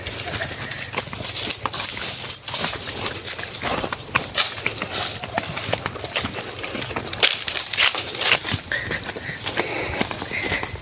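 A working farm horse's hooves clip-clop steadily for about eleven seconds over rough ground, fairly loud and close within a dense wash of outdoor noise, with no talking.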